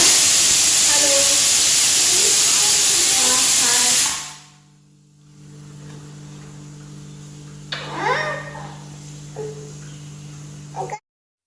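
A kitchen pressure cooker hisses loudly and continuously with steam for about four seconds, then stops abruptly, leaving quieter household sounds.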